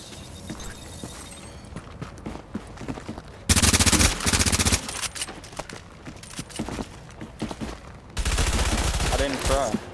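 Automatic gunfire in the video game The Division comes in two loud, sustained rapid-fire bursts, separated by a stretch of quieter game noise.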